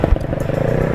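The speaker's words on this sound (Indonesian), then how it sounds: "bisa dilihat ada beberapa kendaraan motor yang nekat melintas" Motorcycles push across a washed-out road link between Padang and Padang Panjang after a bridge collapse, one engine droning steadily and fairly close with some clattering.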